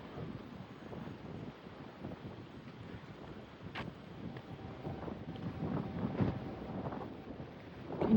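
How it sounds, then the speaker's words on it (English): Wind gusting steadily against a microphone outdoors, a continuous low rumbling buffet that swells slightly toward the end, with no talk. "Can you hear that wind?"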